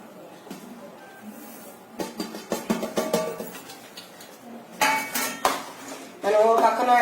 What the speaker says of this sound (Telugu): ఇప్పుడు దీంట్లోకి శనగపిండి వేసేస్తున్నాను నేను